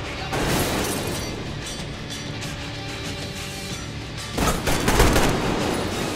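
Shotgun blasts from a firefight in the video game Metro Exodus, two heavy booming bursts a few seconds apart over a loud, noisy rumbling background.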